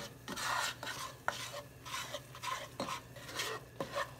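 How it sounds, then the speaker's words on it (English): A spoon stirs flour into melted butter in a pan for homemade mac and cheese, making soft rhythmic scraping strokes about twice a second over a faint sizzle, with no talking. "I'm going to mix and mix and mix until all the flour is mixed in with the butter."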